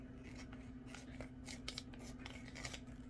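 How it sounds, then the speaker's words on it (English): Scissors cutting open a plastic package in a kitchen: a quick series of crisp snipping and rubbing strokes, close and fairly quiet, over a faint steady hum. "I'm going to take the scissors and I'm going to tear here with them"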